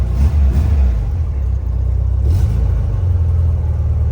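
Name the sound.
old Volkswagen Beetle engine starting and running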